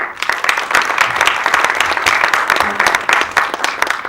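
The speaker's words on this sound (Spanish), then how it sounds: "Un aplauso, por favor." Loud, dense audience applause at a talk event on the reinvention of television series, steady and full throughout with sharp individual claps and no voices on top.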